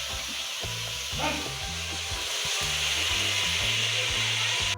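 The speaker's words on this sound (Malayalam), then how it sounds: "ചിക്കൻ്റെ പീസുകളെല്ലാം ഇട്ട് കൊടുക്കാം നമുക്ക്" Chicken pieces dropped into a hot pan of sautéed onions set up a continuous, close sizzle and frying hiss, holding steady throughout over a quiet musical backing.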